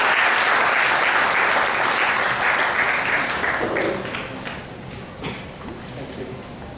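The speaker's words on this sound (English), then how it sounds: "With a big round of applause, Mr. Kuti." A large crowd at a science awards ceremony applauding steadily, loud and dense at first, then thinning and fading toward the end with scattered claps.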